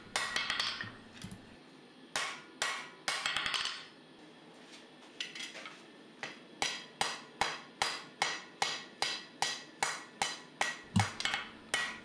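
Hammer blows forging a wrought iron and steel brokenback seax blade on an anvil, first in a few dense bursts, then a steady run of evenly spaced ringing strikes, close and loud with no talking.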